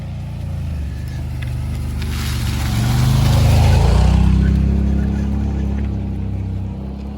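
ATV engines drone along a forest trail, the motor noise growing louder as the machines pass close by and then fading slightly, with no talk.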